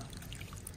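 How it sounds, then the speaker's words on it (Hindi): Water flows into a vegetable garden bed in a soft, continuous trickle that stays faint and steady throughout. "ये तीसरे में पानी जा रहा है"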